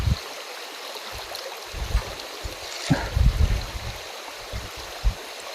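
A large river flows by outdoors at a riverside camp, a broad steady wash of water with occasional gurgles and low splashing thumps close by.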